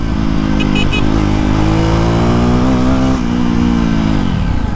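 A JAWA motorcycle accelerates hard up through its gears, the engine note climbing in pitch and pausing briefly at each shift, loud and close throughout.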